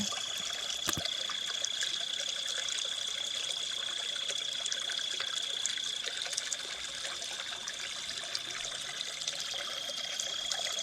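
Water trickles and gurgles steadily in Chinquapin Run, an urban stream flowing beneath Baltimore streets, a continuous close, bright splashing with a faint high ringing tone over it and no voices.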